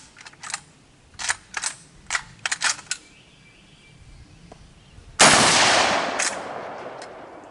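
A 12 gauge lever-action shotgun, a Century International Arms PW87, goes off outdoors after a run of light mechanical clicks: one loud, sharp blast that rings out and decays over about two seconds, with no talking.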